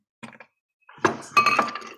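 Hard cashew nuts clatter and clink into a coffee grinder in two bursts, a short rattle followed by a longer tumbling pour.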